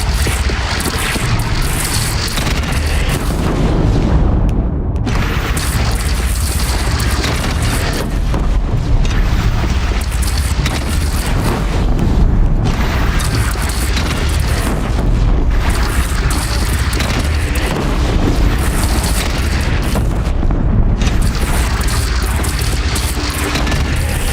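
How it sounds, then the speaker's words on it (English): Cannon fire from a bandit clan in the video game Horizon Zero Dawn, heavy booming blasts and explosions recurring every few seconds over a constant loud rumble of battle, with no speech. "They only have one cannon!"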